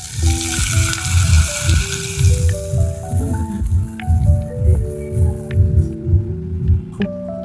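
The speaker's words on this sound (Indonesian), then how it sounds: "Kita tambahin minyak panas ya guys." Hot oil poured onto seasoned food with salt, crackling and sizzling loudly and close, pulsing in rhythmic waves as it spreads.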